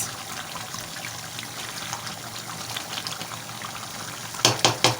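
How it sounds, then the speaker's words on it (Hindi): Goat liver (kaleji) frying in masala over a high flame, a steady dense sizzle and crackle running throughout, with a few louder bursts near the end. "अब ये फ्राई हो रही है अच्छी तरह।"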